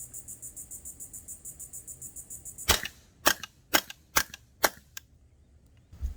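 Suppressed .22 LR braced pistol shots ring out outdoors, about six sharp reports spaced irregularly after a rhythmic insect-like chirping background, each crack loud and close.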